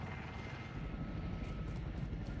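A support helicopter in the Call of Duty Modern Warfare video game, with a steady rotor and engine roar that holds at an even, fairly loud level throughout.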